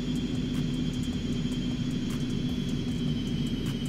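Steady jet engine drone from an Aerobask Eclipse 550 business jet in X-Plane 11 during approach, a constant loud rumbling hiss with a thin high whine running throughout, with no voices.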